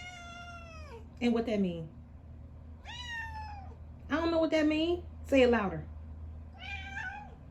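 A pet cat meows several times in a row, close and fairly loud, with its drawn-out cries trading off against people talking nearby.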